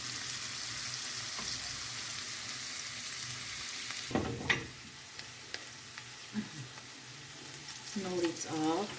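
Onion and carrot frying together in a pan, a steady close sizzle with occasional scraping and stirring clatters, louder bursts of spatula movement near the middle and end.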